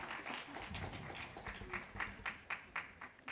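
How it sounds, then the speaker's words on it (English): Audience applause for conference panelists at a regional One Health meeting, rising toward the end into several sharper clap bursts over a steady crowd murmur. "Another round of applause, please, for the panelists and Dr. Mulumba for facilitating an amazing"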